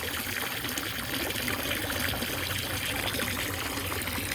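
Water drains out of a retractable garden hose in a steady, close gushing trickle that holds without a break for a few seconds, with no talk.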